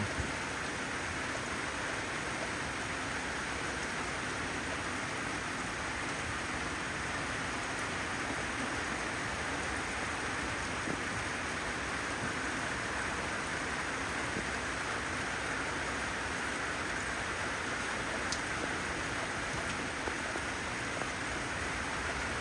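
Steady rain falls continuously, a dense even hiss with no breaks, heard from close by and unchanging throughout.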